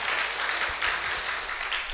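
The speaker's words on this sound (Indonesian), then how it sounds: "Tepuk tangan pada tim ini." A crowd at a school launch event applauds steadily, a dense wash of clapping throughout the short moment.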